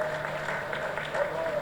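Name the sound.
audience applause at housing society prize ceremony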